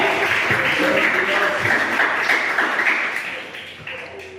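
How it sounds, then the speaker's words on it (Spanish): Church congregation gives a strong round of applause, a full, continuous clapping sound that gradually fades toward the end. "Denle un fuerte aplauso, Señor"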